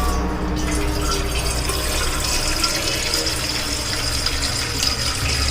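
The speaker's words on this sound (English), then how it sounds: "I filling water in this bartan." Water pours from a kitchen tap into a metal cooking pot, a steady rushing fill heard close up with no talk.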